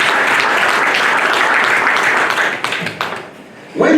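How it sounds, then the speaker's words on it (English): Dense, loud audience applause at a gathering honouring an NGO coalition in Nigeria fills most of the clip, then thins to scattered claps and fades near the end. "I want you to give a round of applause."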